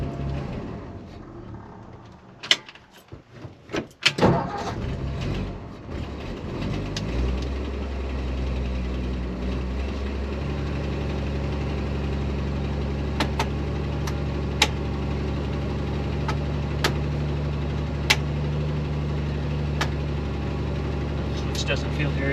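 A 1960 Edsel Ranger engine with no choke cranks and sputters unevenly, then catches and settles into a steady low idle with occasional ticks, close by, while a person talks over it.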